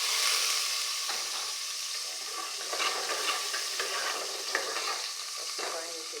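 Diced onions frying in a tomato-based sauce for Nigerian party jollof rice, giving a steady close sizzle with frequent stirring scrapes and clicks of a spoon in the pot throughout.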